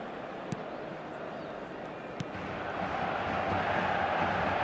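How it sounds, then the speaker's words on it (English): A stadium crowd in the football video game eFootball 2026 roars in a steady, dense wash of cheering that swells slightly toward the end, with a couple of faint knocks over it. "Certainly gave this crowd something to really cheer about."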